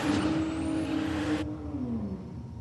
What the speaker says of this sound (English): listen to that V8 sing